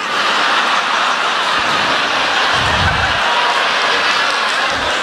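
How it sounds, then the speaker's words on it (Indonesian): A stand-up comedy crowd applauds a comedian's act about his grandmother, a steady, dense wash of clapping that holds at an even level for the whole stretch, with no voice rising above it. "Eh boleh tepuk tangan dulu boleh?"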